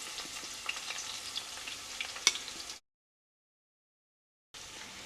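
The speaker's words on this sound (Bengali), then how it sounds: "এই তেলে দিয়ে দিচ্ছি একটা মিডিয়াম সাইজের পেঁয়াজ" A medium-sized onion sizzles in hot oil that was used for cashews, frying toward brown for a Bengali dal chicken. The steady crackling fry is broken by a brief dead-silent gap, then resumes.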